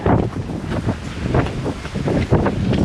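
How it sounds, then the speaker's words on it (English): Desert wind gusts hard against the microphone, loud rumbling buffets rising and falling in uneven surges over a few seconds, with no voices. "Ooh, it got windy."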